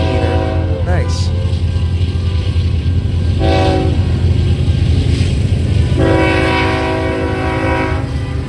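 An eastbound Norfolk Southern/CPKC manifest freight train led by a KCS locomotive rumbles by, its horn sounding in several loud blasts over steady wheel clatter at close range.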